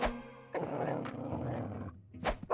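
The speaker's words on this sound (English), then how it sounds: "I recognize that dog growl from Tenchu." A dog growls low and rough in the video game Rule of Rose, a sustained snarling roar lasting over a second, followed by short harsh bursts, close and alone without talk.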